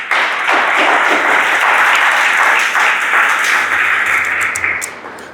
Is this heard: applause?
yes